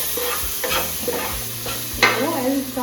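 Vegetables stir-fried in a pan at home, a soft sizzle under repeated spatula scrapes and clinks against the pan, close and steady.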